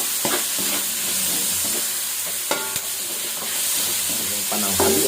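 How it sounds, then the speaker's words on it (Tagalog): Ginger, garlic, onion and tomato sautéing in a pan for Ilocano pinakbet, a continuous close sizzle broken by several sharp metallic clinks and scrapes of a spatula against the pan. "gisa-gisa po muna natin yung mga luya,"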